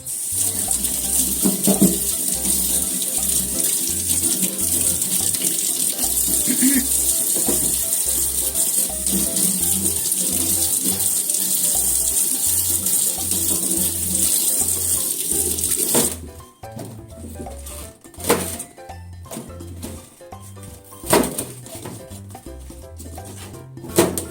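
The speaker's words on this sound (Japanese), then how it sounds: "このネギを洗いたいと思います。" Long green onions are rinsed under a kitchen tap, with a steady rush of running water filling the sink for about sixteen seconds, then the flow stops and only scattered handling sounds and drips remain.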